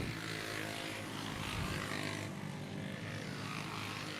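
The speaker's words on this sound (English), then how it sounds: "Sounds like he blew the exhaust gasket out of it." A dirt track racing kart engine with a blown exhaust gasket roars in a continuous, harsh, raspy drone at moderate distance, with no clear breaks.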